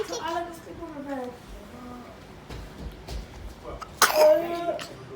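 A child's sharp sneeze bursts out near the end of a noisy home scene, louder than the surrounding voices, which chatter and murmur before it.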